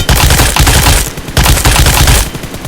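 Video game gunfire comes in dense, loud rapid bursts of automatic fire with short gaps between strings of shots. No voice is heard.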